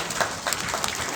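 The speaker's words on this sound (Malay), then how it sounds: "Tepukan." Audience applause at a community event as a child is called up front: a short, steady burst of dense clapping, moderately loud and close, with no talking over it.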